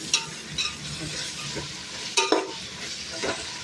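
Tomatoes sizzle with browned onion in a pan for chicken biryani, a steady soft frying hiss broken by a few scraping stir strokes.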